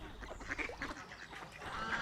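A female duck named Scylla quacks among geese, a rapid series of raspy quacks and honking calls from the mixed flock, moderately close and fairly quiet.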